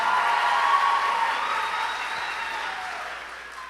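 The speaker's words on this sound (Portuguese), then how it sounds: "Aplauda o Senhor na vida dos seus pastores." Church congregation at a conference session applauds in a dense, sustained wave of clapping that gradually tapers off, heard from within the hall.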